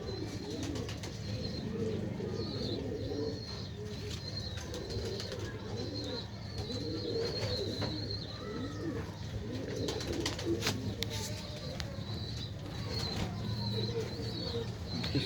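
Pigeons cooing steadily in a loft, with soft, repeated throaty coos layered close together throughout, alongside faint chirps and occasional wing flutters.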